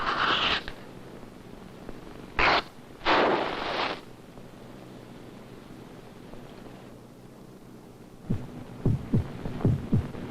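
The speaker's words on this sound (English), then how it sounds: "This is the sound of heart." A heartbeat throbs in soft, low pulses, with a few louder bursts of noise early on and a run of sharper thumps near the end.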